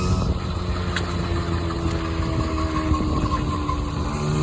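A Honda Express NC50 moped's small engine drones steadily and loudly up close on a test ride, a continuous buzzing hum with slight wavering, no voices.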